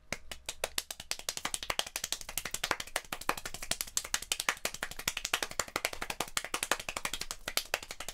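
One person claps very fast, a rapid, even stream of sharp close-up hand claps that continues without pause.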